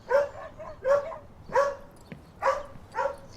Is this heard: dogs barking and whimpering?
yes